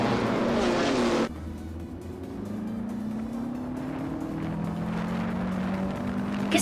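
Race cars engines roar steadily, a passing whoosh at first giving way to sustained rising and falling engine tones from several cars close together, loud and continuous.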